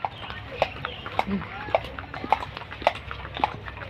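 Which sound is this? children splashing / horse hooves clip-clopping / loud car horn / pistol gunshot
horse hooves clip-clopping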